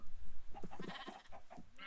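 A sheep bleats in a video game, with a few short quavering cries close up and no one talking.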